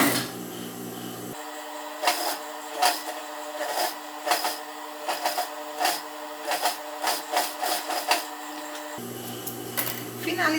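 Sewing machine topstitching close to the edge of a dress lining, a steady mechanical whir running for several seconds with quick repeated stitching pulses, close by, with quieter handling noise before and after.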